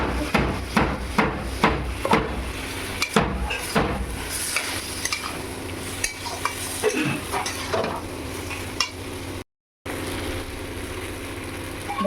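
Curry spices with turmeric, Kashmiri chili powder and a splash of water sautéing in oil for a Bengali jackfruit and prawn dish, a close, busy sizzle punctuated by repeated sharp knocks and scrapes of a spoon against the pan.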